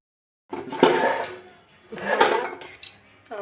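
Kitchen dishes and utensils clatter as rice is served at home. Two longer rattling bursts are followed by a short clink and a brief ringing tone, all close and with no talking.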